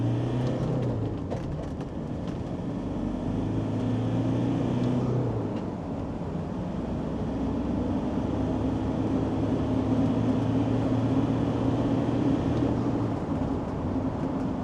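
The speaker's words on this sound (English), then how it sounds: "Let's go full throttle." A Land Rover Defender 2.4 with a Stage 2 tune accelerates at full throttle from about 15 mph in second gear up a big hill, its engine drone rising through gear changes and holding steady and loud for the whole stretch, with no talking.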